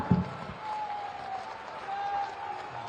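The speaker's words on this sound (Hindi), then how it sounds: "आपकी जोरदार तालियों के साथ" An audience at a public government ceremony in Kanpur claps together, a soft, diffuse wash of applause heard from a distance after a brief sharp knock, with a faint tone beneath.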